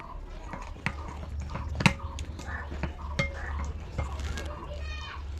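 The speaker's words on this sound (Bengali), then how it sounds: "এখন ভালোভাবে মিশিয়ে নিব।" Spoon clinks and scrapes inside a bowl as bhujia batter is mixed with chili powder, turmeric and salt, a scattering of sharp taps over a low steady hum, close by.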